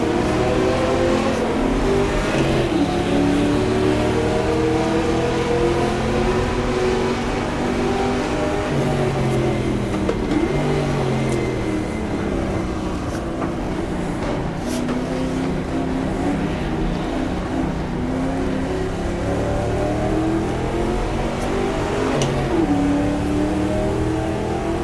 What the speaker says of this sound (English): It's the loud Ferrari.